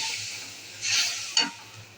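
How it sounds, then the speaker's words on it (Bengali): Masala paste being sautéed in a pan for an egg and potato curry, a soft sizzle with a couple of scraping stirs of the spoon, fairly quiet and close. "এবার মশলাটা কষিয়ে নিই ভালো করে।"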